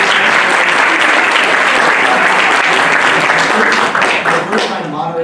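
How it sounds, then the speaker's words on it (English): Audience at a conference panel applauding loudly, with a thick, continuous wash of clapping from a large crowd that stays even throughout and thins a little near the end. "let's give a round of applause to McKenzie Richards."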